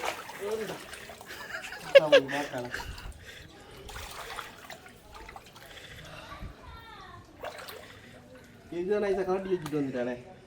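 Floodwater around a flooded house splashes and trickles in bursts as someone wades through it, with someone talking over much of it and a louder stretch of splashing near the end.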